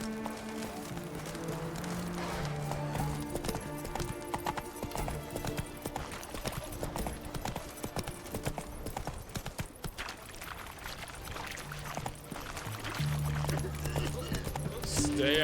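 Horse galloping in The Witcher 3, with rapid rhythmic hoofbeats running throughout over game music and a spoken voice.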